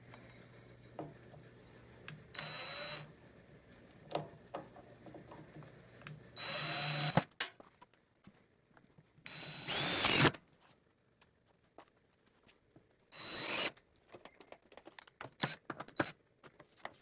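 Power screwdriver driving sheet metal screws into slots on a DIY 8700 kit, heard in several short whirring bursts of one to two seconds, each separated by pauses with faint handling clicks.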